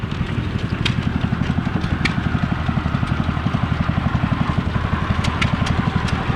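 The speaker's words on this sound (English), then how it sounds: "This one has a gas engine attached to it" A small gas engine drives an antique fodder chopper at a harvest-day museum event, chugging with a fast, even, regular firing beat and occasional sharp ticks, steady and fairly close.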